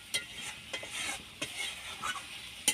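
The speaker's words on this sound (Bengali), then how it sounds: "এবার আলুটাকে মশলার সাথে ভালো করে মিশিয়ে নেব।" Fried potatoes are stirred into a cooked spice masala in a pan, with repeated scraping strokes of a spoon and a steady sizzle beneath, close and clear with no voices.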